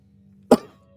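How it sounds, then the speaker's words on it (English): A single sharp, close cough rises abruptly out of a faint background hum. "This cough just really does not want to go away."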